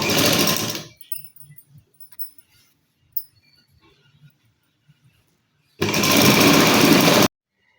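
A sewing machine stitching thread piping onto cloth, running in two loud close bursts of rapid needle rattle with quiet handling sounds between them and no talking.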